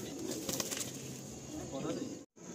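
Pigeons being released burst into flight with a brief flurry of flapping wings, close and fairly faint, over a soft background hiss and ending with a short cut to silence.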